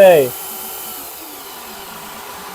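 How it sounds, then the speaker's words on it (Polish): A steady electric drill whine, powered by a Bluetti Elite 200 V2 power station, hums on at a constant pitch after a brief voice at the start, running alone and fairly loud throughout. "Ale wiertarka też idzie, słuchajcie."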